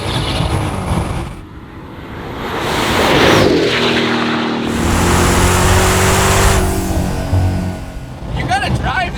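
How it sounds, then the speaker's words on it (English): A Hennessey twin-turbo Dodge Demon 1700 engine roars and revs hard during a rolling burnout, rising and holding at a loud, close pitch, with voices talking over it. "I just want to do rolling burnouts."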